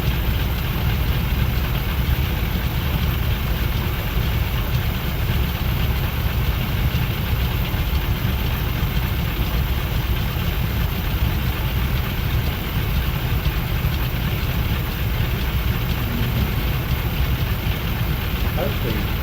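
A Got Friends Mini 500 light aircraft engine idles steadily in Microsoft Flight Simulator 2020, a constant loud droning hum that continues unbroken throughout the full stretch.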